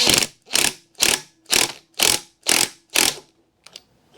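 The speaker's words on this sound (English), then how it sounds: "we'll drive her home with an impact" Impact wrench driving a bolt into the primary and cam chest of a Harley-Davidson Evo Sportster motorcycle engine, seven loud, evenly spaced rattling bursts about half a second apart, then a brief quieter hit.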